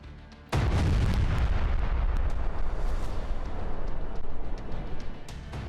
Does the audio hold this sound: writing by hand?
no